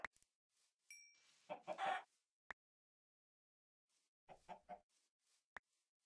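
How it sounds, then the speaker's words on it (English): Chickens cluck in a video game, two short bursts of clucking separated by silence, with sharp isolated clicks in between. "A bunch of chickens, I don't think anyone's like been here."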